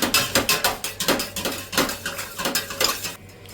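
A utensil stirring coconut-based food in a metal cooking pot, with a steady rhythm of close clinks and scrapes against the pot, ending in brief quiet.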